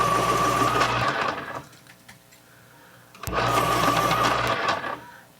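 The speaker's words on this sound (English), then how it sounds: "So let's sharpen these up." Colored pencils ground in a sharpener, two loud buzzing whirring bursts of about a second and a half each separated by a quieter gap with faint clicks.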